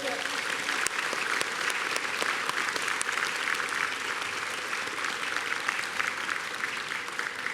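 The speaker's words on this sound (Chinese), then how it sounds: "以热烈的掌声，向这些国家的代表致上我们最深的感谢" A large audience at Taiwan's 2021 National Day celebration gives warm, sustained applause, a dense, even roar of clapping lasting throughout.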